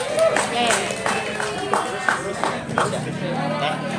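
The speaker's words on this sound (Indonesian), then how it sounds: "Tepuk tangan dulu untuk Cepot dari Bandung." An audience at a Sundanese wayang golek puppet performance claps in a loose burst of applause, with chatter and voices mixed in throughout, fairly loud and close.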